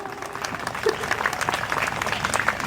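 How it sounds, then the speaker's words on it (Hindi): An audience claps loudly at a stage performance, many distinct hand claps layered into sustained applause that swells a little partway through, with faint crowd voices mixed in. "जोरदार तालियां बजाइए"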